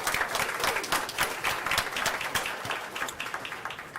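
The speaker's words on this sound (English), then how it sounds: "So let's give her a round of applause also." A crowd applauds steadily at a Wake County school board meeting, dense clapping filling the whole stretch at an even, moderate loudness with no voices on top.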